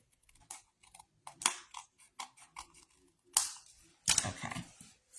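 A paper trimmer slices along the edge of a sheet of paper in short, sharp, scratchy bursts broken by quiet gaps, close and fairly faint.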